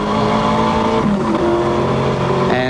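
Race cars thunder along the pit straight during the Bathurst 1000, a loud continuous engine roar with shifting revs and a brief tyre squeal, close and steady throughout with no talk.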